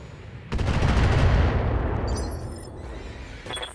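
LRM missiles and weapons fire in the mech combat game BattleTech, a loud, sustained roaring barrage that bursts in suddenly, then slowly fades into rumbling, with a few faint metallic clicks near the end.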